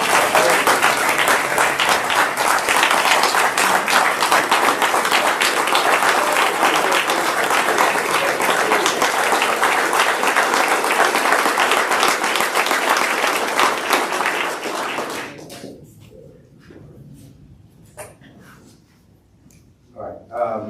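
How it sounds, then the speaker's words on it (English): Loud, sustained applause from a crowd at a state bar council quarterly meeting honoring a colleague's final report, dense clapping running about fifteen seconds before tapering off into a quiet room with scattered small noises. "he is deserving of a loud round of"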